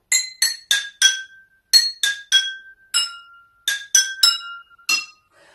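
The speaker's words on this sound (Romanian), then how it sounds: "Sunetul se produce prin lovire, în general cu un obiect metalic, puteți folosi o lingură" Water-filled glass containers struck one after another with a metal spoon, ringing out as a rapid series of bright, clear pings at varying pitches, each with a short decaying tone, heard alone.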